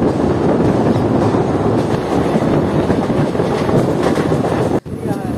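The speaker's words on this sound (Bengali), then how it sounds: "আমাদের ট্রেন এখন ক্রস করছে শক্তিগড় রেলওয়ে স্টেশন।" The Kaviguru Express train running through Shaktigarh station, heard from on board as a loud, steady rumble and rattle mixed with heavy wind rush, ending in a brief sharp drop before the roar resumes.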